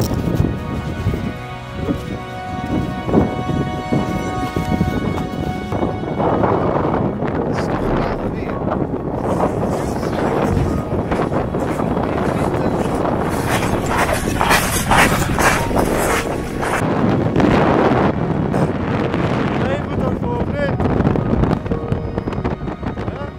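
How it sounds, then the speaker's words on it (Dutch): A strong north wind roars during a snowstorm on a snowshoeing trip, loud buffeting gusts battering the microphone with steady rushing noise throughout. "begon het steeds harder te waaien uit het noorden"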